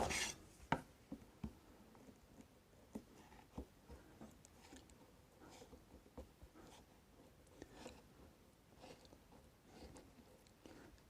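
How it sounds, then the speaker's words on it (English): A sharp chisel trims wood veneer flush against an MDF edge, giving quiet, close scraping and rasping strokes with small irregular clicks and taps. "You need a sharp chisel, and press the back of the chisel flat onto the MDF as you're cutting it."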